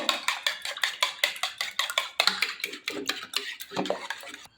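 Eggs beaten briskly in a bowl, a fast, regular run of close clinking whisk strokes that continues throughout with no talking.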